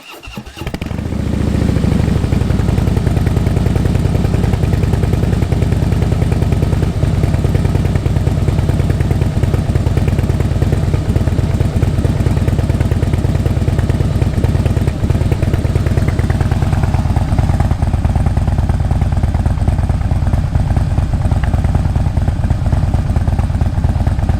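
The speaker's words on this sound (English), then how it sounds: "I'm going to turn on the knob here and I'm going to start the bike now" A Harley-Davidson Fatboy motorcycle cranks briefly, fires up and settles into a loud, steady, close idle with a lumpy throb that runs on for over twenty seconds, no talking.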